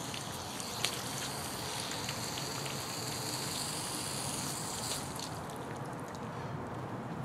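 Water draining out of the valve end of an expandable garden hose after the faucet is shut off, a steady soft hiss and trickle with faint drips running throughout.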